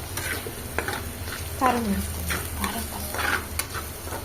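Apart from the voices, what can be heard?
ginger garlic paste frying in a pan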